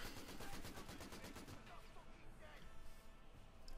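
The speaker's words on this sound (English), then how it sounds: "Too much machine gun fire." Rapid, rhythmic machine gun bursts rattle through a Company of Heroes 2 battle. They sound quiet and somewhat distant and fade after the first couple of seconds into a lower rumble.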